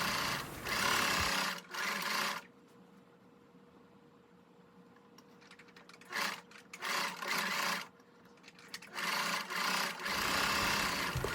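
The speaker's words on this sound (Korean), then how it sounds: "문판에 옆선을 박음질합니다." Sewing machine stitching the side seams of a shirt-collar dress, several short close runs separated by quiet pauses with faint handling sounds.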